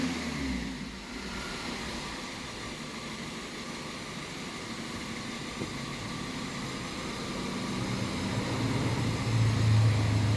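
Car engine revving steadily as exhaust oxygen sensors are tested under rich and lean fuel conditions; a continuous close hum that swells louder toward the end, with no talk.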